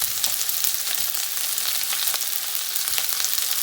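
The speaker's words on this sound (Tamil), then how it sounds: "இப்போ ஆனியன் ஆட் பண்ணிக்கலாம்." Onions sizzle in hot oil in a pan for a capsicum potato gravy, a steady close hissing fry with faint crackles and no talk.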